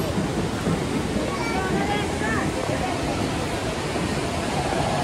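A river rushes beneath a bridge at Mana Village near Badrinath, a constant broadband roar of water that fills the whole stretch with no breaks.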